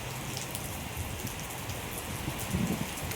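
Heavy rain pours steadily near Sambalpur, a dense even hiss of drops with a few louder spatters close by and no voices.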